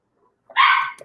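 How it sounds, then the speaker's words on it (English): One sharp dog bark rings out after silence, short and fairly loud, with a faint trailing yip, and no talk over it. "Sound like my dog in the background going crazy"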